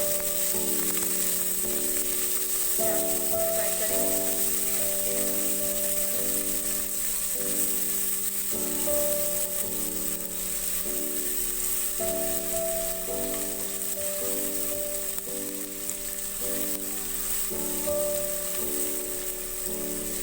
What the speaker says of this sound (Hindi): पहले पैन में ऑयल डालेंगे। ऑयल हमारा गर्म हो जाएगा तो इसमें प्याज डालेंगे।